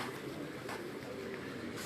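Pigeons coo softly in a rooftop breeding loft, with low, murmuring calls repeating over a steady background hum.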